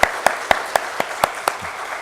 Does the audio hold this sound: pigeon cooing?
no